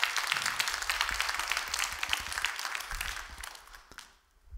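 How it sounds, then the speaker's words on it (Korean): A church congregation claps for its broadcast team during a Wednesday Bible study service, a dense wash of applause that carries steadily before fading out near the end. "박수 한번 해줘 우리 방송실."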